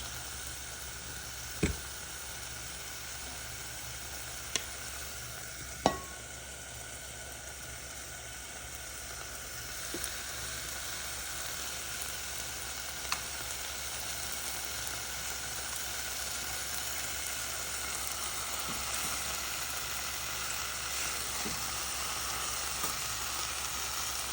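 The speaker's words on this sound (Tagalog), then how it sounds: "Magisa na siya guys ng kunting-kunti sa mantikang olive oil." Milkfish (bangus) sizzles steadily in a small amount of olive oil, a soft, even hiss that runs throughout, broken by a few sharp pops and spatters.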